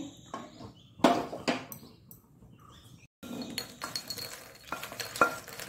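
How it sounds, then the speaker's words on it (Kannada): Sesame seeds roast together with lotus seeds (makhana) in a pan, giving faint crackling pops and a light sizzle, broken by sharp scrapes and clinks of a spoon stirring against the metal. "ನೋಡಿ, ಎಳ್ಳೀಗ ಒಡಿಲಿಕ್ಕೆ ಶುರುವಾಯಿತು."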